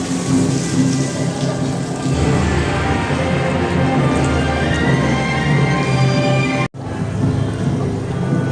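Water pours in a steady, loud splash from a dragon fountain at Osu Kannon temple in Nagoya, Japan, continuous apart from one brief dropout near the end.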